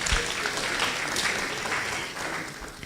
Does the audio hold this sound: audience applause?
yes